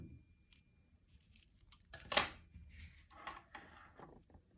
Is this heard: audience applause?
no